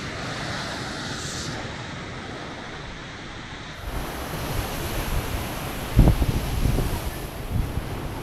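Steady wind buffets the microphone at the seaside with surf washing in beneath it, a continuous rushing roar that swells louder in gusts toward the end.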